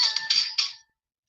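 A mobile phone ringtone chirps in a few quick pulsing bursts of bright electronic melody, fairly loud and close, then stops abruptly as it is silenced.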